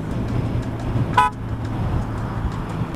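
A single short toot from the horn of a 2021 BMW R 1250 RT motorcycle sounds once, fairly close, over a steady rumble of road traffic and engine noise.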